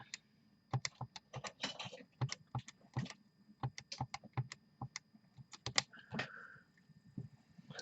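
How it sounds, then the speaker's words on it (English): Typing on a computer keyboard, with quick irregular clicks and clacks in bursts and brief pauses, fairly faint and close. "just typing away, get those numbers added up."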